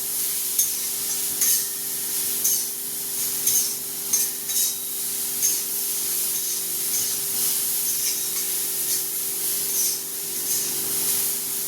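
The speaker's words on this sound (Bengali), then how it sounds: "আমরা একটু নাড়াচাড়া করে নেবো যাতে নুন হলুদটা ভালো করে মিশে যায়" Bitter gourd being stirred with salt and turmeric in a hot pan, giving a steady hiss and sizzle with soft scraping stirs throughout, close and continuous.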